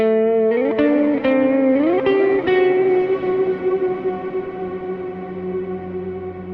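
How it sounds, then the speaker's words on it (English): Electric guitar run through a Kemper Profiler auto swell effect: a few notes fade in softly without a pick attack, then glide and sustain in a smooth, echoing wash that slowly dies away. "adding the auto swell, you get these fade-in sounds"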